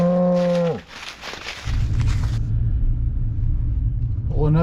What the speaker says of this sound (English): That's what cows do when you got them trained.